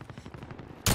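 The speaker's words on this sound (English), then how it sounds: "Tracking enemy. He's being shot at." Rapid bursts of video game gunfire crackle in a quick machine-gun rhythm for under a second, ending in one loud, close blast.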